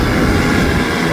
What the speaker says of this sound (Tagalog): Parang helicopter eh.